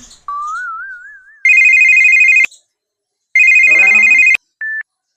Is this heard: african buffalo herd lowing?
no